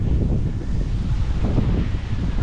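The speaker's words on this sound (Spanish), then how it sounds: "Pero está bien, bastante ventoso." Strong outdoor wind roars across the microphone in a continuous, loud, buffeting rush with no break and no voices.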